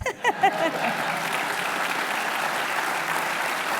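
An audience at a speech breaks into applause, starting with a few distinct claps and quickly swelling into a dense, even roar of clapping that holds steady and loud.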